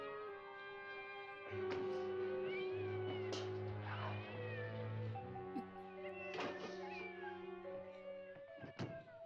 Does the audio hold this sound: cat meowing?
yes